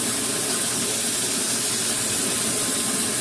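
A Lego vacuum engine fitted with a three-speed manual transmission runs with a steady, dense hissing and whirring noise, loud and close, with no pause and no speech.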